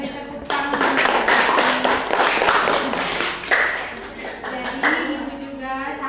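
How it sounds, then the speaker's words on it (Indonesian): A class of children applauds together in a classroom, a dense burst of clapping that carries on steadily for several seconds at close range. "Ayo kita beri tepuk tangan."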